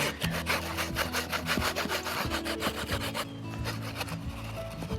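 An Ozark Trail hatchet saw cuts through green tree wood in quick rhythmic back-and-forth rasping strokes, close and clear, the blade clogging with sap, then the strokes stop and a quieter scrape lingers.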